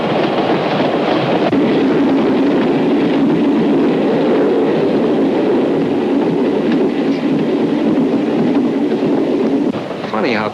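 A passenger train runs steadily along the rails out of a big city, giving a loud, continuous rumble with a rhythmic clickety-clack that stays close and even throughout.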